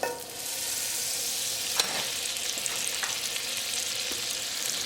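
Unsalted butter melting into hot olive oil in a skillet gives a steady, close, bright sizzle with a few soft pops and light stirring taps, unbroken from start to end.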